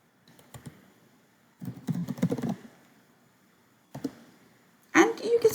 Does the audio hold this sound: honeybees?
no